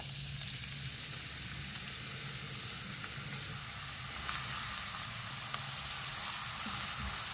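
Chopped medium onion frying in oil gives a steady close sizzle with a few faint stirring clicks and scrapes toward the end, no voices.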